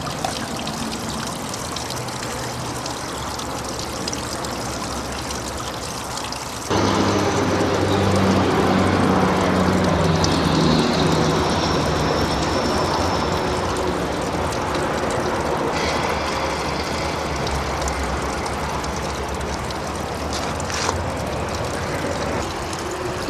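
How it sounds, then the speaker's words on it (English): A Gold Genie spiral wheel concentrator washes dredged material with a constant trickle and splash of water, joined by a louder, rougher churning hum after a few seconds as the wheel keeps running. "this is our gold dropping out in the pan in the back of the gold wheel, spiral wheel"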